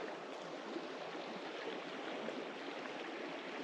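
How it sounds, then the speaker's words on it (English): A small mountain creek at the headwaters of a river rushes steadily in remote winter wilderness, a constant close wash of flowing water with no talking. "We're right next to the Mt River, which is a lot smaller here than it gets in other sections."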